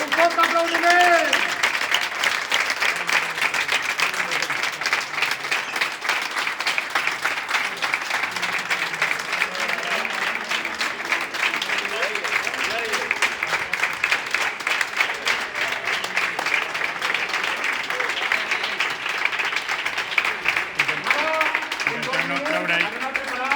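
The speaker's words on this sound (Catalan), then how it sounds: "Un fuerte aplaudiment." Sustained applause from the audience after a basketball final, a dense, even clatter of clapping lasting over twenty seconds with crowd voices faintly beneath.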